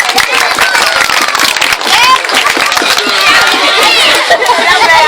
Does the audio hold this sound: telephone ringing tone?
no